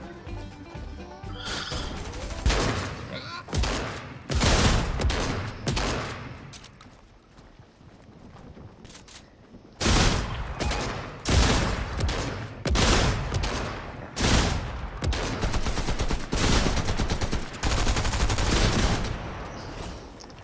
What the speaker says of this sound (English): might be the worst shotgun fight I've ever seen